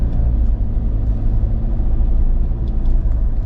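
A car driving into a village community road on the way to Khao Yai Thiang in Thailand, heard from inside as a steady, loud low engine and road rumble with no talk.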